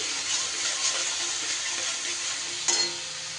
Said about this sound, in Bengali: নুনটা দিলে মশলাটা খুব ভালো করে কষানো হবে